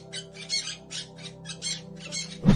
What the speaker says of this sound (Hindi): कल्कि जी अपने तोते को आदेश देते हैं